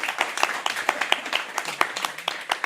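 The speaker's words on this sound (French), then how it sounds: "je pense qu'on peut les applaudir bien fort pour leur intervention" Audience applause after speakers finish at a talk on mutual aid and edible cities, a thin scattering of separate claps from a small crowd, fairly close and uneven, lasting a few seconds.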